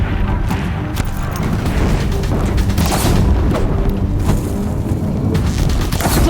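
Deathbringer machines firing on a bridge in Horizon Zero Dawn, with heavy booming blasts and crashing debris filling a dense, loud, continuous rumble throughout.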